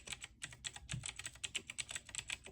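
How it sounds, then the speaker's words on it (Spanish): Rapid clicking from an E-yooso Z-11 mechanical keyboard with blue switches, its crisp keystrokes falling in a quick, uneven typing rhythm, close and fairly quiet with no voices. "El característico sonido del clic que escuchamos es gracias a que contiene switch azules."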